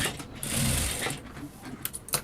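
Sewing machine stitching the lining of a blouse, a brief whirring mechanical run that rises and fades, followed by a few short clicks and taps of the mechanism, close up and alone.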